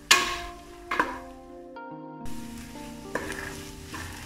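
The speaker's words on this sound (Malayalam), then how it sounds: "എന്നിട്ട് നന്നായി വഴറ്റി കൊടുക്കാം." Onions sauté in a pan for mutton curry, a soft sizzle broken by a few scraping stirs and clinks of the spoon, fairly quiet and close.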